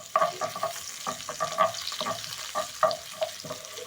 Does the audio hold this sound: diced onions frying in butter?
yes